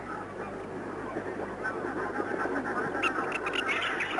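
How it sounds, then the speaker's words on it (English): Flock of pink-eared ducks wheeling overhead: a continuous chatter of many small, mixed calls at middle distance, with a soft rush of background noise and a few sharper notes toward the end. "You can tell that these are nearly all pink ears by the size of the flock wheeling."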